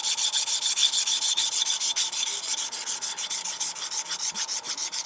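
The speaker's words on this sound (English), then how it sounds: "you can feel it very rough as all the little nicks and burrs just grate into the stone" A well-worn Henckels chef's knife scrapes over a sharpening stone in steady back-and-forth strokes, a close, rough rasping with regular rhythm, about a dozen passes, no voices.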